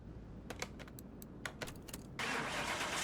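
A supercharged Hot Wheels Boneshaker engine in a racing video game gives a few short revving bursts, then settles into a loud, steady roar that holds to the end, with no talking.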